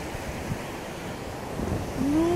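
Stormy sea waves wash continuously onto a beach in the USA under strong wind, a steady close roar with wind buffeting the microphone and no voices heard.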